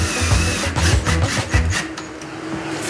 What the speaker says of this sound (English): we're going to take advantage of those just to put some extra screws to secure this brace in right here.